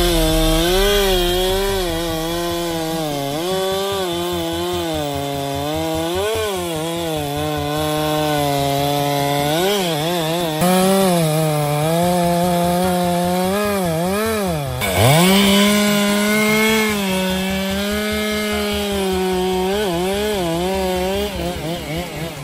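A chainsaw prunes tree stumps during wood harvesting, its engine loud and close, revving up and down continuously as the chain bites into the wood, with no voices.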